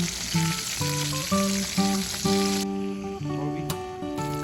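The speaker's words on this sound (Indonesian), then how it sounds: "Dan kemudian udang dan ikan lainnya mulai aku goreng." Shrimp and fish fry in hot oil at a beach campsite, giving a steady, close sizzle and crackle throughout, while a melodic tone plays over it.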